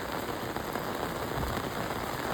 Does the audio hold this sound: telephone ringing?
no